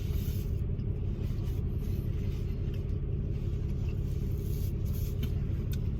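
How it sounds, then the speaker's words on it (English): Deep, steady diesel rumble of an Old Dominion double-trailer truck pulling into a crowded truck stop, a continuous low engine drone close by with no talk over it. "Got a Old Dominion double trailer coming in."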